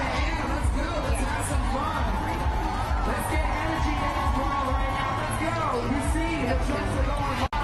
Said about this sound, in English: We can hear the roar of the crowd